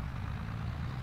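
A tractor engine in Farm Sim runs steadily with a low, constant idle-like rumble, hooked up to pull a baler in the game, with no talking over it.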